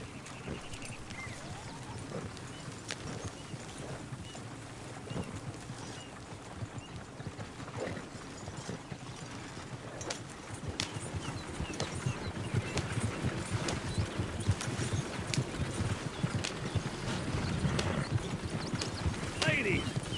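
Horse hooves clip-clopping at a gallop in a PS4 video game, a steady rhythmic drumming through forest under game ambience and occasional talk, growing louder in the second half.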